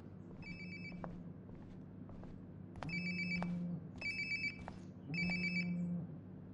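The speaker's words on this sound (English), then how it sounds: "Sounds like my phone is definitely nearby." A mobile phone rings nearby in a quiet room, its electronic ringtone repeating in short bursts of chiming tones with brief gaps between them.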